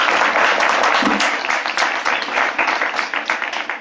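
A theater audience claps after a Shakespeare prologue at an evening performance, a loud, dense burst of applause that stays steady and thins slightly toward the end.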